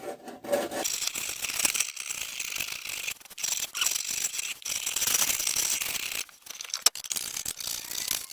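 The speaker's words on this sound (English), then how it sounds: "next step we got is to scrape these things" Metal scraping on a pulley from a 1968 Chevy C20, a steady dry rasping and rubbing that goes on with short pauses and a few sharp clicks, close by with no talk.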